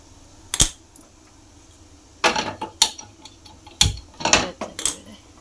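A gas stove lighter clicking as a burner is lit for tempering in a home kitchen, several sharp close clicks in separate bursts, the first alone and later ones coming in quick clusters.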